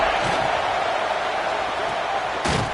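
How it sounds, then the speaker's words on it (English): A dense stadium crowd roars continuously at a college football game between Tennessee and South Carolina, a loud wash of noise with a couple of thuds and one sharp burst near the end. "This crowd bringing the energy and noise early"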